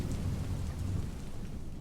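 A thunderstorm effect for a spoken story, a steady low rumble of thunder blended with constant rain patter, fairly quiet and continuous with no voice over it.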